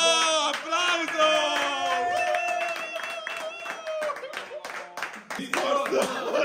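A crowd at an adventuring award ceremony breaks into clapping and cheers, with voices shouting and talking over the applause in bursts that swell again toward the end.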